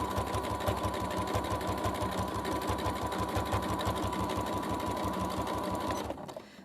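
A sewing machine stitches steadily, starting with the needle down, while sewing a large tote bag. The motor hums and the needle thumps in a fast, even rhythm for about six seconds, then stops abruptly.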